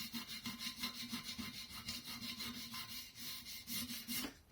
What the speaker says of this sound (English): It's just a bit of Scotch Brite,